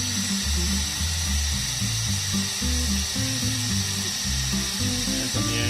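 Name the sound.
electric drill priming Subaru engine oil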